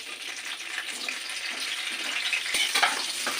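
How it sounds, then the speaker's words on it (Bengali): Cauliflower sizzles and crackles steadily in hot mustard oil in a pan, a close, continuous frying hiss with a brief stir or clink near the end. "আমার প্রথমে ফুলকপিগুলো একটু ভেজে নেবো তেল গরম হয়ে গেছে"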